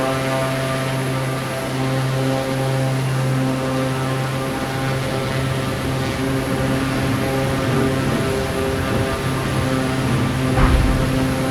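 Propeller aircraft engines drone steadily in Microsoft Flight Simulator 2024 as power is reduced for landing near Maubeuge, a loud continuous hum with strong harmonic tones that shift slightly in pitch, ending with a brief thump.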